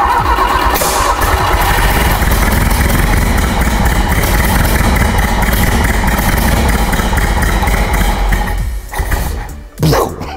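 A car engine fitted with six stacked head gaskets cranks, catches and runs loud and rough up close. The steady roar falters and sputters near the end.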